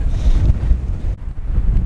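Strong, gusting wind blasts across the microphone on the White Cliffs of Dover along the English coast, a loud, continuous roar with a few brief dips.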